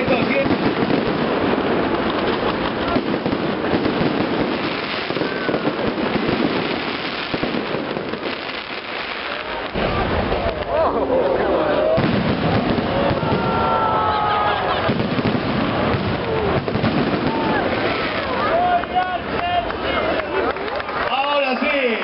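A fireworks display for La Gaceta's 100th anniversary sends dense crackling bursts and booms over a continuous roar, with crowd noise and a talking voice over the sound, busier toward the end.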